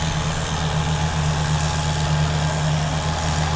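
A tractor engine idling at a tractor pulling contest in Hajdúböszörmény gives a steady, low, even drone with a strong hum. It runs close and unchanging throughout, with no talk.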